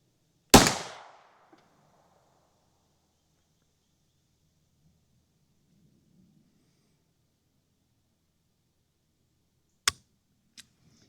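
A Glock 19 Gen 5 pistol, held loosely in a vise, fires one sharp, loud shot that rings off, followed after a long quiet by a second crack and a fainter click.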